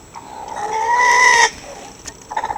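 Chickens on a small farm that also keeps rabbits give one loud, drawn-out hen call for about a second and a half, followed by softer, scattered clucks nearby.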